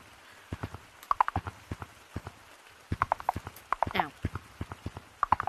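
Horse clip-clop sounds from the Gorilla Tag VR game, quick bursts of hoof clops in uneven groups with a brief whinny near the middle, heard alongside a short vocal exclamation.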